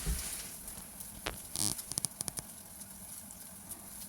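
Garlic sizzling in hot oil alongside tofu fish in a pan, a soft, steady frying hiss broken by a quick cluster of sharper pops and crackles near the middle.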